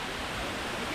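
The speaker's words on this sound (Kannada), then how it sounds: "ಸೂಪರ್ ಆಗಿದೆ ಫಾಲ್ಸ್ ನೋಡಿ" A forest waterfall pouring steadily, a dense close rushing roar of falling water that stays even and unbroken throughout.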